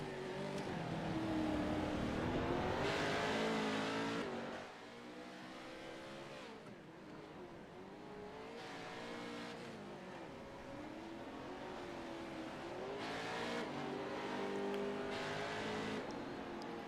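Race cars run the final lap of a heat race at Summit Point, engines rising and falling through several revving surges and gear changes, loud and sustained with shifting pitch, no talk.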